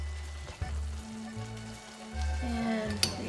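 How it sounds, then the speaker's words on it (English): Melted butter at a full boil in a pan, a soft steady sizzle and bubbling with scattered small pops, close and moderately quiet, with a low hum underneath. "So first thing we do is we melt our butter. All right, it's a full boil."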